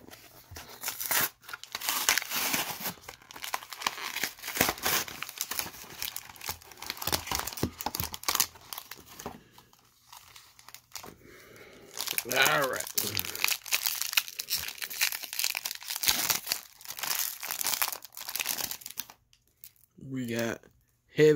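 Foil wrappers of Magic: The Gathering Jumpstart booster packs crinkle and tear in close, bursty handling, with short quiet pauses between rustling stretches.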